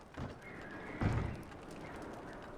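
Horses in the video game Red Dead Redemption 2, with a snort or whinny and a heavier thudding movement around the middle, fairly faint and close.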